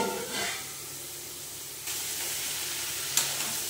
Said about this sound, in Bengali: এবার থোড়টা দিয়ে ভালো করে কষে নেবে